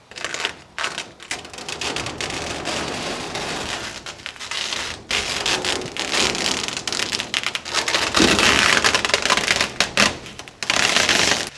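Old roof liner being ripped off the roof of a Bronco in cold weather, the glue still sticky, giving long bursts of tearing and crackling that stop and start, close and fairly loud, with no talking.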